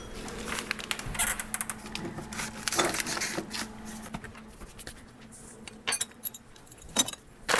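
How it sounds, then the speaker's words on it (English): A spoon stirs flaxseed, cinnamon and other dry ingredients in a bowl while baking with serviceberries, producing close scraping, gritty rustles and light clinks in uneven bursts, fairly loud and without talking. "why don't you stir that up with that spoon?"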